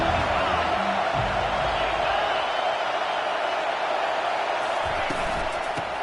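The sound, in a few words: football stadium crowd cheering on third down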